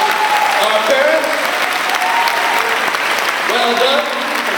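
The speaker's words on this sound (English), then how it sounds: "A big round of applause to" A crowd at a Balboa High School graduation claps steadily in loud, sustained applause, with some cheering voices rising over the clapping near the end.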